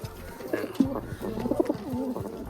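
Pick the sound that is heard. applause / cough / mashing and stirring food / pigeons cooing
pigeons cooing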